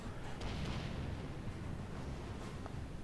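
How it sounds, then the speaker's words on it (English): Torpedo launch from a Japanese Minekaze destroyer in World of Warships, a muffled booming burst of in-game naval combat audio, with a couple of soft thuds amid a constant rumbling battle din. "I'll just launch torpedo in that direction as well"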